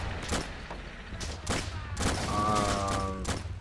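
Cannon blasts and bursts of gunfire erupt in the Army Men: Plastic Wars game, several loud booms spaced a second or so apart over rattling shots and a rising whistle-like tone.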